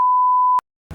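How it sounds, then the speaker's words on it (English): A single steady censor beep, a pure electronic tone, lasts just over half a second and stops abruptly. A brief moment of silence follows, and then a faint sound starts. "Sorry, I had to beep that out."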